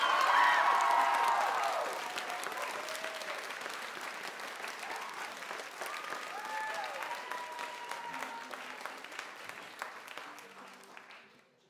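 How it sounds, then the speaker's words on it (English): A crowd at the Stone Church in Brattleboro, Vermont, applauds comedian Matt Pless after a stand-up set: sustained clapping with scattered whoops, loudest at the start and slowly tapering, with voices in the room beneath it. "Big round of applause to Matt Pless."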